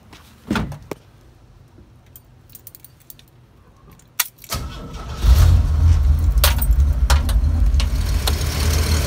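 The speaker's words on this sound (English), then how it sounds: "put a jumper on it and get it started" A pre-1973 Chevrolet C10 truck engine started with a jumper: a few clicks and rattles, then the engine catches about halfway through and settles into a loud, steady, close idle.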